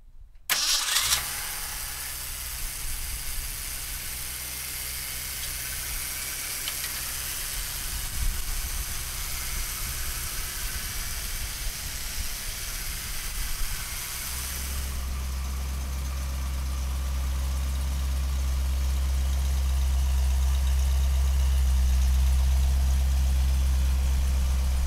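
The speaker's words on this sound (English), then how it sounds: "let's fire this 428 up." A 1969 Ford Mustang Mach 1 with a 428 V8 (Q code) cranks and fires up, then settles into a deep, rumbling idle that grows steadily heavier and louder over the remaining seconds, close by with no talking.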